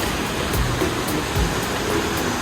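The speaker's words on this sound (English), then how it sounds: "Kaaterskill Falls is a two-stage waterfall on Spruce Creek in the eastern Catskill" Kaaterskill Falls, a two-stage waterfall on Spruce Creek in the eastern Catskill Mountains of New York, heard as a steady, dense roar of falling water, loud and unbroken with no voices.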